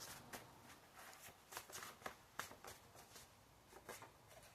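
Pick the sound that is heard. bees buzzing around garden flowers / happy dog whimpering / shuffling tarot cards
shuffling tarot cards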